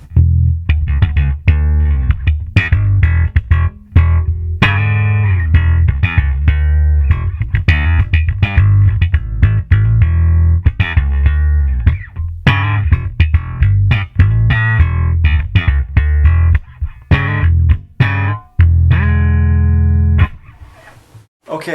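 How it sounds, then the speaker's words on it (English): Slapped and popped bass guitar played through an Ashdown MiBass 220 micro bass amp head with boosted bass and a scooped midrange, giving a loud, punchy run of percussive notes and sharp pops that stops abruptly near the end. "by boosting up the bass and taking more of a scoop on the amp, we get a sound that's typically suited to things like slap"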